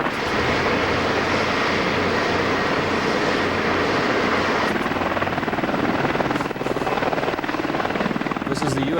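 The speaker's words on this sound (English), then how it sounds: "This is the U.S. Army's AH-64A Apache helicopter, the #1 attack helicopter in the world today." A U.S. Army AH-64A Apache attack helicopter roars loudly and continuously nearby, its rotor thudding in a rapid steady beat under a broad whine.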